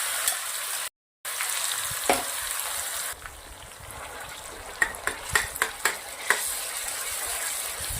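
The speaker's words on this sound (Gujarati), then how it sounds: "ઘીના અંદર ગ્રેવી થોડી સંતળાઈ જાય" Gravy for Kerala-style pepper paneer masala sizzles in hot ghee with a steady hiss. A run of sharp spoon taps against the pan follows near the end, with no voices.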